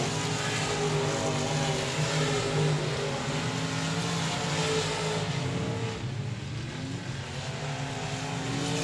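Race cars roar around the Texarkana 67 Speedway oval during a feature race's closing laps, a loud, continuous engine drone that rises and falls slightly as the pack passes, with no talk.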